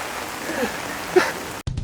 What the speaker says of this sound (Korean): 근데 비가 많이 오는데